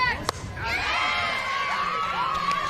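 A college softball crowd cheers loudly after an Alabama home run at a packed ballpark, a sustained roar with shouts and whoops rising from a brief crack, steady and near, with faint commentary underneath.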